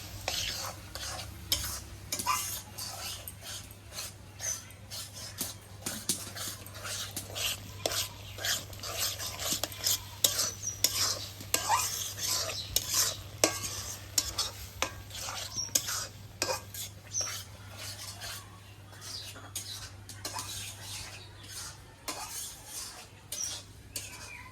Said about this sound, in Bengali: তো চালতা শুটকিটা আমি ভালো করে কষিয়ে নিব।